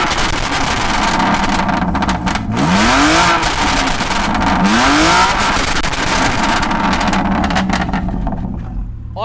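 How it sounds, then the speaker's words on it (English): BMW S55 engine in an M2 Competition with a full-system Akrapovic exhaust and Stage 2 FBO tune, revving loudly in two sharp rising sweeps over a rumbling idle, close and alone. "The S55's full system Akrapovic exhaust"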